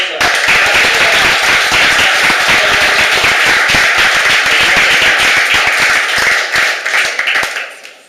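An audience at a short-film presentation in La Boca bursts into loud, dense clapping that holds steady for several seconds and then fades out near the end.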